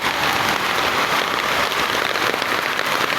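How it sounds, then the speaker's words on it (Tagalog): Heavy rain pours beside a highway, a dense loud continuous hiss and patter of drops hitting the ground and surfaces nearby, steady throughout with no voices. "Ang lakas ng ulan."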